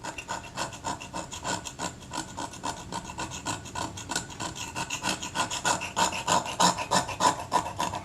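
Loose glue is scraped off the aluminium back of a Kodak Retinette IIA camera in quick, rhythmic rasping strokes. The scratching is close but fairly quiet, with no voice.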